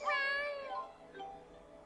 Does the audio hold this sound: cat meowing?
yes